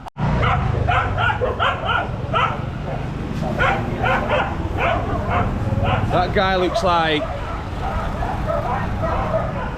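Street dogs at Swoyambhu temple in Nepal bark and yip furiously in rapid overlapping bursts, close and loud, with a high whimpering yelp near the end and someone speaking over them.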